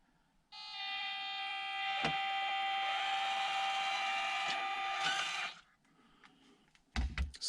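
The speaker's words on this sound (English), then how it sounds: "And now the Kratos with the larger motor." A HobbyPlus CR-18 Kratos 1/18 RC crawler fitted with a larger motor whines steadily and evenly for about five seconds, close by and alone, then cuts out, followed by a few brief knocks.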